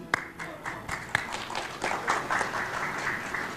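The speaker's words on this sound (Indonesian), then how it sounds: "Tepuk tangannya tidak ikhlas" A rally crowd at an Indonesian political campaign event claps in a steady ragged patter through the whole stretch, moderately loud, with some sharper individual claps standing out.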